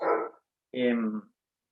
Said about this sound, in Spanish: los perros ladran, como seguramente ustedes están escuchando